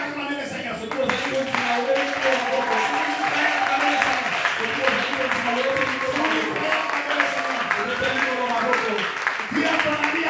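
A church congregation breaks into steady, enthusiastic applause, a dense crowd of clapping that lasts throughout, with voices shouting and talking underneath.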